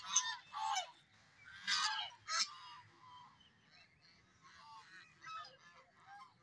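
Several ducks honk noisily in loud overlapping bursts, then the calls trail off into fainter, scattered honks.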